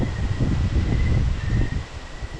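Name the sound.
strong wind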